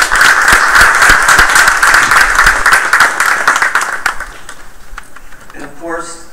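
A crowd at a technical college signing day applauds the parents, with loud, close, rapid clapping for about four seconds that tapers off as a voice starts speaking.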